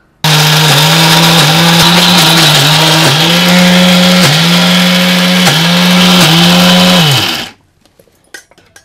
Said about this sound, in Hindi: अब हम इसको मिक्सी में पीस लेंगे